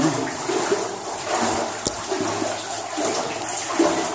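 Water dripping and trickling inside the abandoned Lost Horse Mine, with a steady wet wash and a few distinct drip and splash hits spread across a few seconds, close by and fairly loud.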